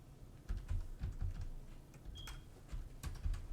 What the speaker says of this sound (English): Hey, I don't mind my typing.